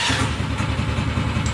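Small engine of a Snowdog motorized dog sled running steadily after an electric start, a close, even mid-pitched putter with a regular pulse and no voices.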